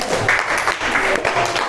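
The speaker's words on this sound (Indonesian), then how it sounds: "Beri tepuk tangan untuk Mbak Mariska." An audience applauds a speaker after her presentation at an Indonesian school event, steady dense clapping for about two seconds with a voice or two faintly mixed in.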